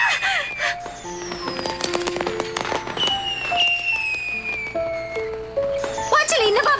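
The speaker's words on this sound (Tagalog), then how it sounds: "Fireworks sa ganitong oras?" Fireworks crackle and pop in rapid, overlapping bursts with whistling rising and falling tones, continuous for several seconds at moderate distance, while people talk underneath.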